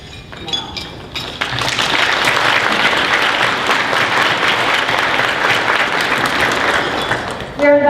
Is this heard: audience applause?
yes